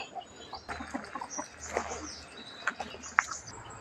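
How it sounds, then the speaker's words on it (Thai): Chickens at feeding time on a temple grounds in rural Lampang, Thailand, give off scattered clucks and sharp calls over a low steady background, close by and moderately loud, with brief peaks near the end. "ไก่อยู่ตรงนี้ลูกเด้อไก่กินอาหารแล้วเนาะ"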